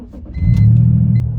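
A BMW E46 with an open-to-limited-slip differential kit, heard from inside while driving as a short, close, low engine hum that swells as it pulls away. No one speaks.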